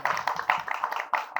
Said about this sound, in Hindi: खुदा के जलाल के लिए तालियां बजाएं